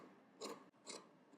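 Scissors trimming a small amount of fabric for a double-breasted jacket, two quiet crisp snips about half a second apart, close and alone.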